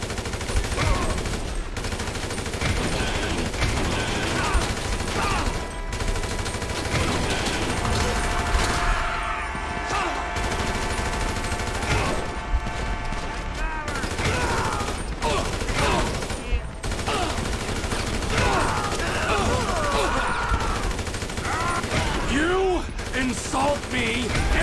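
Dense, continuous gunfire and bursts of shots mixed with shouting voices and chaotic commotion, loud and sustained throughout.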